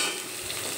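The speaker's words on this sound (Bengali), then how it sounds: "ভাজার জন্য আলুগুলো কড়াইতে দিয়ে দিলাম। আলু দিয়ে একটু নেড়ে চেড়ে নিলাম।" Sliced potatoes with a pinch of salt fry in hot oil in a wok over a medium flame, giving a brief, soft, steady sizzle with light stirring close by.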